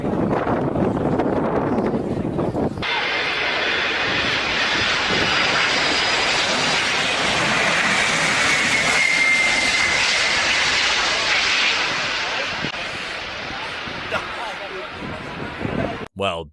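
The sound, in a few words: Antonov 225 aircraft engines during crosswind landing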